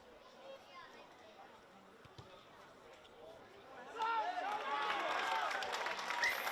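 A rugby crowd at an under-16 Super Rugby match erupts into sustained cheering and applause after a successful kick, rising suddenly and staying loud to the end, following a stretch of distant murmur.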